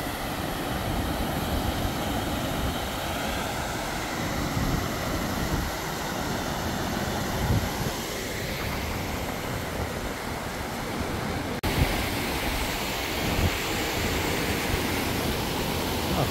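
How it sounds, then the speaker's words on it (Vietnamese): Clear water of the Du Già stream in Vietnam rushes steadily and close, a broad continuous wash with no pauses and no voices. "Đây là suối Du Già nhé mọi người."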